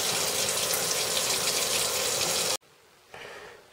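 Water gushes steadily from a household faucet during well bleach flushing, a loud close rush that suddenly cuts off, followed by a quieter, thinner flow.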